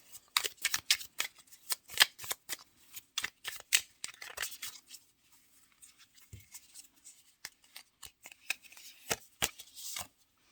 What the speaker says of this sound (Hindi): और एक कार्ड और निकालूंगी मैं।